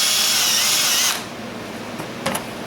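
A power drill bores a hole, whining loudly and steadily up close for about a second before stopping, followed by a few faint clicks and handling noises.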